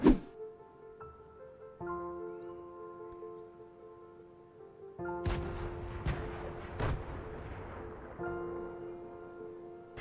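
Grenade thrown in Fortnite, with faint tonal game hum and light clicks, then a burst of crackling explosion debris partway through, moderately loud and alone without talk.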